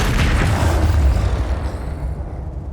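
Expelliarmus spell cast in Hogwarts Legacy, a deep booming blast that rumbles loudly at first and then decays into a fading tail over a few seconds.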